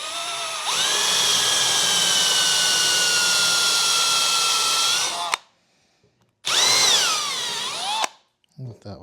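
Power drill countersinking magnet holes in a car stroller build, two close, loud high-pitched whirring bursts separated by a short pause, with the motor pitch dipping under load, then brief clatter.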